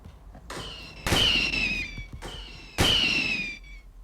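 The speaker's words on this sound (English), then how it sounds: "I got a flare gun." Flare gun shots in a Roblox flight game, two sharp whooshing pops each followed by a fading hiss, loud and close with a brief gap between them.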